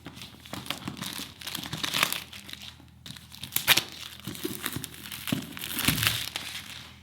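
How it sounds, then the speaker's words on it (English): Plastic wrap being peeled and crinkled off a DJI Mini 3 Pro drone box, a close, continuous crackling and rustling with sharper tearing bursts across the whole stretch. "Let's take off the plastic first."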